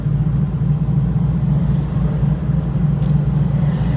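A car rolls past on the road, a steady low rumbling engine and tyre noise holding close and moderately loud for a few seconds, heard from inside a TVR Chimaera.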